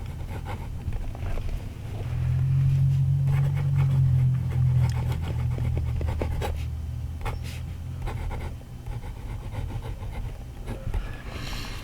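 Nib of an Oaso K016 clickable fountain pen scratching and gliding across paper, a close, continuous soft rubbing with small irregular strokes over low background hum, no talking.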